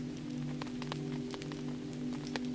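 Steady rain falls on a surface at a rainy night campsite, a continuous soft wash broken by scattered sharp droplet patters, close and moderately loud with no voices.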